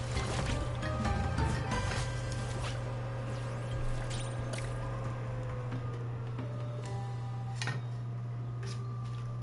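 Water splashing and sloshing during swimming in Lego Horizon Adventures, with liquid trickles and small splashes over a steady low game hum, with no talking.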